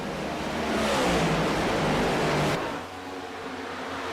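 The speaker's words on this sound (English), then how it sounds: "Hoppy clutches the car into turn 3, lets the Talent go. You can see and hear it" A race car engine at an ICON Cup Series race in Nashville roars loud and close as the driver clutches into a turn, then the note drops and thins abruptly as it passes and fades.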